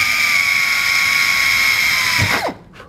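A power drill with a small bit whines at a steady high pitch for over two seconds, then winds down and stops with a short clatter, close and loud.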